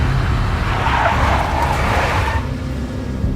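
A big black Mercedes from the game Max Payne drives by with a loud engine roar and tire noise that swells, then drops off abruptly near the end, with no talk over it.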